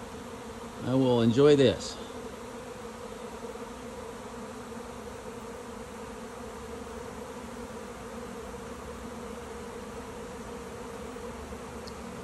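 Honey bee swarm moving into a swarm trap outdoors, heard as a steady, soft insect hum filling the whole stretch, with a brief spoken phrase near the start.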